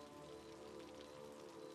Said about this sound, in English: It's just stopping the rain.